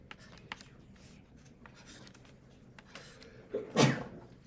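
A single sudden sneeze bursts out near the end of a calculus lecture, loud and close, after quiet scratching and small handling noises.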